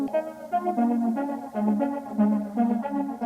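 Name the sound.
UVI Rotary effect on ambient track, lo-fi modulation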